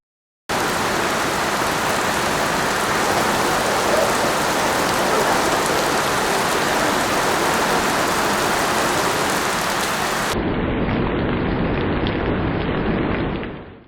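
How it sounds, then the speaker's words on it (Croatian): Heavy rain downpour, a real cloudburst, pouring steadily and loudly as a dense, even roar of drops on surfaces with no break, near and constant throughout. "I to taman prije nego je krenuo novi pljusak, pravi prolom oblaka."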